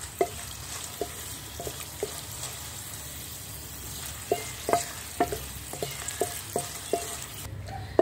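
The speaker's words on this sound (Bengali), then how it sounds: "এখন আমি শুকনো মরিচগুলিকে ভেজে নেব, প্রথমে একটু লাল লাল করে ভেজে নিতে হবে।" Dried red chilies fry in a generous amount of oil in a pot, with a soft continuous sizzle and a spoon stirring and scraping in irregular, clicking knocks, close up and without talk.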